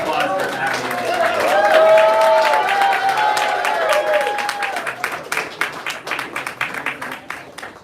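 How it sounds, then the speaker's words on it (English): An awards-ceremony audience applauds an award recipient at a mentoring awards event. Dense, loud clapping with some cheering swells early and then thins into scattered, uneven claps toward the end, over a faint tonal background. "Round of applause for Abby."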